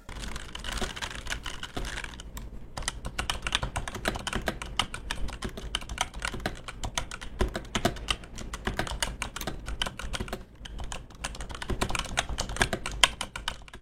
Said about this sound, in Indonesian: Razer ProType Ultra ini pakai Razer Yellow Mechanical Switch dengan key feel linear dan silent